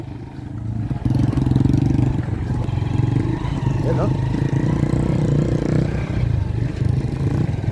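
A Rusi motorcycle engine drones steadily as it climbs a mountain road, loud and close throughout, with people talking over the running motor.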